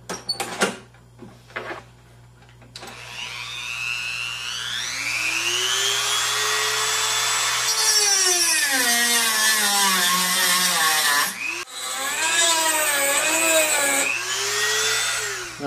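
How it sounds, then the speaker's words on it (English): A Dremel rotary tool cuts into a Touratech Zega pannier lock, its high whine swooping up and down in pitch as it bogs under load, with a brief pause before the cutting resumes, close and loud. "So I'm going to cut this using a Dremel from behind so I can take this out"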